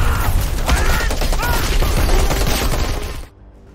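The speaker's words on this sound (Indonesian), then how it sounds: "गोलियां बरसने लगी जी" Rapid, dense gunfire crackles continuously for a few seconds, loud and close, then abruptly drops to quiet.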